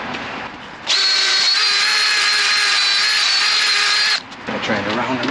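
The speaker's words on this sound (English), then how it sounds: "I got my starter hole, so I'll drill that through." A power drill whines at a steady high pitch for about three seconds, loud and close, grinding through a metal boat-trailer bracket before stopping.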